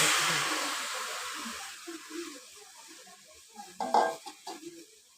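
Chopped ash gourd with turmeric, salt and green chili hitting a hot wok, a broad steady sizzle that slowly fades, with a few stirring scrapes and clatters of utensil near the end.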